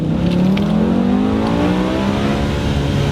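A BMW E60 M5 with its V10 engine in the 500 horsepower setting accelerates hard in first gear, a loud close interior roar rising steadily in pitch throughout.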